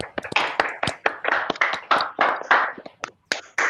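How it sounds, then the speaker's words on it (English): Scattered hand claps from an online audience come through unmuted microphones, uneven and overlapping in irregular bursts with brief gaps between them. "if everybody can just unmute their mic and clap for Pratik, sir"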